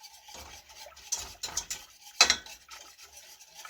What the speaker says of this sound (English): Sorry for all the noise that the pan on the stove is making.